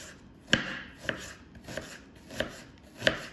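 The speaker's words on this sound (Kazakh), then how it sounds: "Енді жуамызды осылай турап алдық, уақыттап." A knife chops onion on a cutting board in a home kitchen, giving five sharp, evenly spaced knocks about half a second apart, close and fairly quiet, with no voices.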